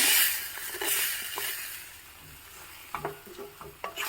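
Carom seed tempering poured into a hot pan for a Karavali Brahmin-style red amaranth dish sizzles in a steady hiss, broken by soft stirring knocks and a few sharper crackles near the end.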